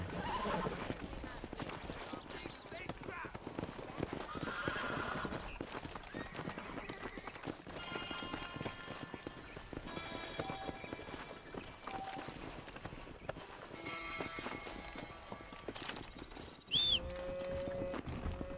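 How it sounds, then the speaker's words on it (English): Horse in the Red Dead Redemption video game, with galloping hoofbeats and a whinny over game music and ambience, while someone talks over the action. "Ô, meu cavalo, vem a mim."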